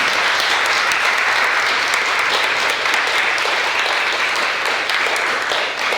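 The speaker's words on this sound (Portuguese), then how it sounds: "Aplauda Ele." A church congregation applauds in a steady, dense wash of clapping that fills the room and continues evenly without a break, with no speech over it.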